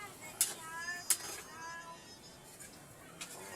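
Cats eating together from a shared spread let out a few short, sharp meows, the calls spaced apart over a quiet, low background.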